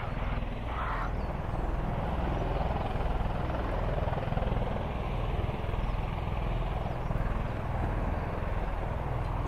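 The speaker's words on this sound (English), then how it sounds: "another Osprey, not the same one, different one taxiing out" Osprey tiltrotor aircraft taxiing at an airfield, giving a steady, droning rotor thrum and engine roar that holds at a moderate distance without pause.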